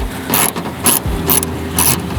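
A tiny ratchet turning a bolt during a headlight install on a 2014 Subaru Forester, giving four loud, close bursts of rapid clicking in a steady back-and-forth rhythm.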